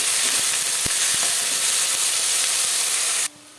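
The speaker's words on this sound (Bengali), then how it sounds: "পেঁয়াজটাকে একটু লাল লাল করে ভেজে নেব" Chopped onions fry in hot oil in a pan after fish has been fried, making a loud, steady, close sizzle that runs almost unbroken before cutting off abruptly near the end.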